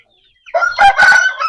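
A close, loud crow from an Aseel fighter rooster rings out alone after a brief near-silence. The call rises into a strong, sustained cock-a-doodle-doo.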